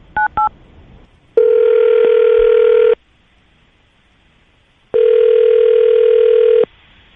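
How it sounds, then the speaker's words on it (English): A telephone dials with two quick tones, then the call rings out twice, each a loud, steady electronic ring of about one and a half seconds separated by a pause of silence. "Okay, I'm going to call him right now, see if we can get him on the phone."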